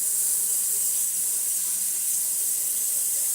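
Warm water runs steadily from a kitchen tap while pizza dough is being prepared, a constant close hiss that holds unchanged throughout with no voices.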